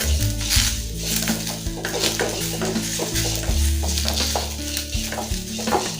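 Thoothuvalai leaves sauté in hot oil in a pan, giving a steady loud sizzle with frequent scraping and stirring clatter from a utensil against the pan.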